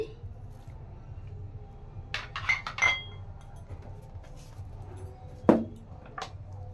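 A spoon clinks against a bowl while salt and sugar go into two bowls of wheat flour for a soybean paratha dough. There are a few light, close clinks and taps, then one sharper clink later, over a quiet room hum.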